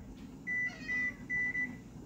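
A kitchen timer is being set and gives several short, clear electronic beeps in quick succession, faint against a quiet kitchen background.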